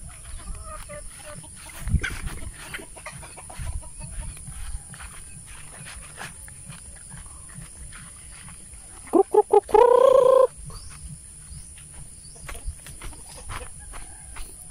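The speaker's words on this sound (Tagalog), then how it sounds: "Yan pong mga manok." A single short chicken call stands out briefly from steady outdoor background noise, with faint rustling before and after.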